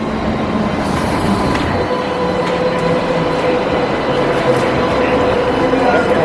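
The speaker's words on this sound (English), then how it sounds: "The tram here is bigger than Melbourne." A tram in Sydney rolls past close by, a loud continuous rumble of wheels on rails with faint squeals and clicks, steady throughout, with some background voices.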